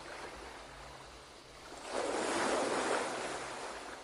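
Ocean waves wash onto a shore, a steady surf hiss that swells louder midway as a wave surges in and then slowly drags back, with no voices.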